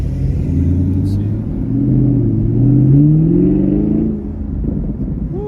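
A 2017 Chevrolet Camaro 1SS V8 revs close by, its deep rumble climbing over a few seconds before settling back to a rough idle, with voices audible underneath.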